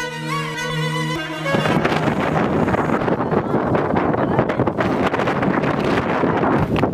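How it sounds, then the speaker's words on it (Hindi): Strong, gusty wind on a stormy day at a kite-flying spot, a loud continuous roar buffeting the microphone after a brief tonal passage at the start, with no talk. "आज तो तूफानी हवा ही बहुत तेज चली है"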